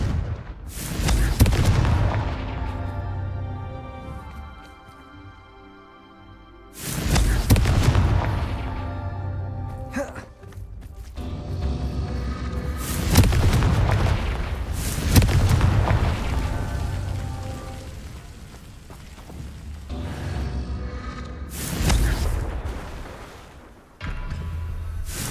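Confringo explosion spell in Hogwarts Legacy: several loud, booming blasts land in turn, each a sharp burst that rolls off into a long rumbling decay, with quieter gaps between them and no voices.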